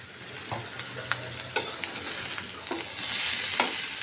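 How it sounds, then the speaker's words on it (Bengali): Papaya bhaji frying in a pan, stirred with a spatula: close, steady sizzling with a few scraping strokes and light clicks, building louder toward the end. "আবারও ভালো করে নেড়ে নেওয়ার পর 5 মিনিটের জন্য ঢেকে দিব"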